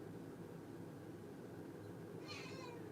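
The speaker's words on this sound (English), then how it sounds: "Yeah, I got some big kitties." A single brief cat meow, fairly faint, rising over a steady low background hum near the end.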